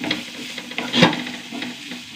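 Chopped onions sautéing in oil in a pan, with a steady close sizzle and a spoon scraping and stirring several times, one louder stir near the middle; no one talks.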